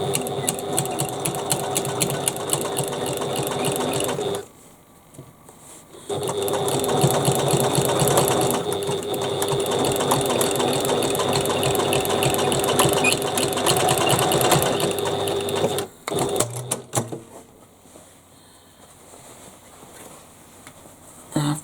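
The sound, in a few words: sewing machine stitching a Shamballa Paloma bag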